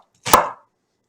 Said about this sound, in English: Always look at the knife when cutting.